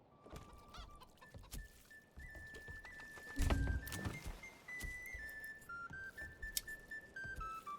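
Chickens clucking around a chicken coop in the village-building game Manor Lords, several birds bawking near and far with a louder burst in the middle over soft ambient game sound.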